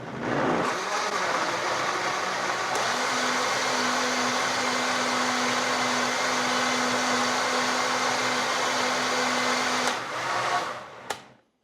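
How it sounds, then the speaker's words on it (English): Blender whirring steadily as it mixes wet muffin ingredients with almond extract, a loud continuous motor drone starting abruptly, holding for about nine seconds, then winding down and stopping. "All your wet ingredients go in the blender."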